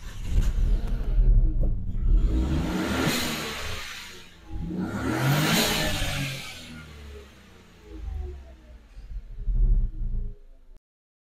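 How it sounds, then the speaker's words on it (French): A Renault Clio TCe petrol engine starts and is revved several times, each rev a loud swelling roar that drops back to a rumbling idle between, close by with no talk. "Je vais mettre le véhicule en route, je vais accélérer"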